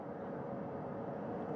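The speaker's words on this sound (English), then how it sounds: "Helicopter 1 again hovering 40 feet over the front porch." A NASA recovery helicopter hovers about 40 feet above the front porch of the Artemis II capsule after splashdown, giving a steady, continuous rotor and engine roar with no break or change.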